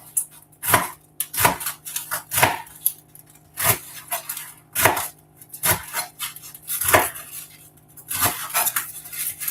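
A knife chops through rolled-up leaves on a cutting board in a steady run of about a dozen sharp, close strikes, each a crisp thud and scrape, with no talking.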